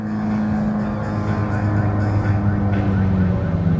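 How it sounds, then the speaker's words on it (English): Amphibious aqua car at Disney Springs driving on land and plunging into the water, its engine droning steadily and loud with a low rumble, joined by churning splash and water noise, with faint voices in the background. "It's a car that drives on land and then it dives into the water"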